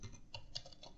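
Quiet, rapid keystrokes on a computer keyboard as a password is typed in, an irregular patter of soft clicks close by with no talking.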